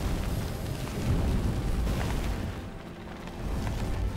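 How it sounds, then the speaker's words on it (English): An explosion in the video game The Gunk rumbles as a loud, dense boom that rolls on for several seconds, dipping briefly before swelling again, heard without talk. "Oh, I love the explosion from the middle."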